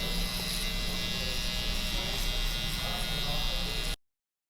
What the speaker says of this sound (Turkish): Daha sonra da ufak makineyle yine Babyliss makine kullanıyorum.